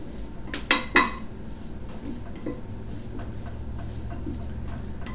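Potatoes tossed with olive oil in a small baking dish give a few sharp utensil clinks and scrapes against the dish close up, followed by softer faint tapping in a quiet kitchen.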